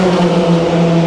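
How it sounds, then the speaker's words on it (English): Loud roaring engine sound from Le Mans endurance race cars passing a spectator at the 24-hour race, a dense sustained drone filling the whole short moment. "these cars will come past you anything up to 115 decibels"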